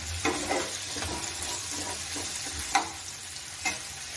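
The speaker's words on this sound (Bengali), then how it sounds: "এই আলু আর পেঁয়াজ আমরা হালকা করে ভেজে দেব" Potatoes and onions fry gently in a pan over a medium-low flame, a soft continuous sizzle broken by a few scraping stirs of a utensil.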